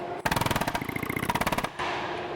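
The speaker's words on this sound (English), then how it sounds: "you're going to take a flat chisel on an air hammer" Air hammer driving a flat chisel against a wheel bearing's backing plate on a Toyota or Lexus, a loud rapid-fire burst of metallic hammering lasting about a second and a half, then stopping abruptly into a steady hiss.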